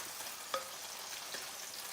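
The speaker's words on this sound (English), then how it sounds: "And I am frying up some breadcrumb as the topping." Breadcrumbs fry in a pan with a steady, close sizzle and soft crackling, plus a faint clink or two of utensils, no talk.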